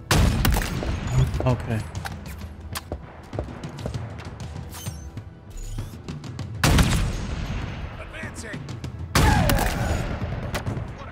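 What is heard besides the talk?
gunfire from video game Halo Infinite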